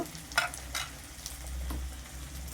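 Potatoes frying and being stirred in a pan, a soft sizzle with a few scraping stir strokes near the start and a low hum underneath.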